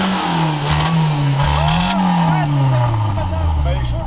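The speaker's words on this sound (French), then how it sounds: "écoutez-moi juste cette ligne d'échappement, on est sur du Miltech" A Renault Scenic engine revving hard through a modified Miltech exhaust line, loud and close, with a rising and falling engine note, raspy exhaust roar and some clatter continuously throughout.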